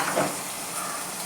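Chili and pepper powders sauté in hot oil for a coconut-milk pearl spot fish curry, a brief, even sizzling hiss.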